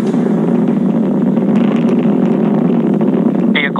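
A loud, steady roar of SpaceX rocket engines during a crewed launch, constant and dense throughout, with a brief higher tone near the end.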